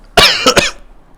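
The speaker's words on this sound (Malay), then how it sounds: "Lalu batuk tu sebenarnya isyarat masa dah habis" A single person coughs sharply at close range: one harsh burst followed by two quick short coughs, then quiet.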